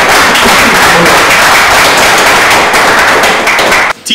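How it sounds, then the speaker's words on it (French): Loud, dense applause fills a music event as a performer is introduced, a continuous roar of clapping that cuts off abruptly just before the end. "sous vos applaudissements"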